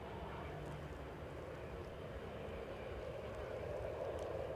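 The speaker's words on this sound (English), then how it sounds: "we have the A319 in spotty livery" Distant, faint, steady engine rumble from an Airbus A319 airliner arriving from Brussels at Edinburgh, a low continuous drone that holds even throughout.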